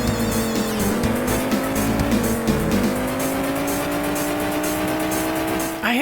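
Race cars in the Amiga game ATR roar continuously with a rising engine whine and squealing tires as they drift through corners, loud and steady throughout.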